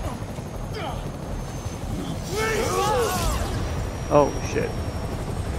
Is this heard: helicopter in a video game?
yes